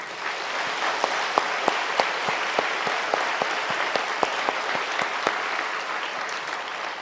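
Steady applause from a church congregation honouring its mentors and pastors, dense clapping throughout with a few sharper individual claps standing out, moderately loud and even across the stretch.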